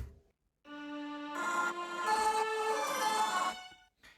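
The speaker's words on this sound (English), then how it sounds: "Again, just layering the previous ensemble of strings," A bright, gritty, distorted string ensemble swells in with sustained layered notes, shifting chords before cutting off abruptly.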